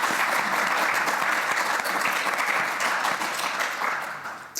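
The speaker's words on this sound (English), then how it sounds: "Could you give her a round of applause?" An audience claps steadily and enthusiastically, a dense wash of applause that fades slightly near the end.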